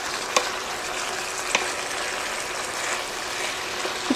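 Ground beef fries in a skillet with sesame oil, a soft steady sizzle underneath occasional light taps and scrapes of a wooden spoon, fairly quiet with no talking.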